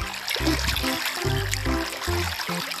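Water trickles steadily while BoBoiBoy toys are washed, a soft continuous wash of liquid that sits alongside louder background music.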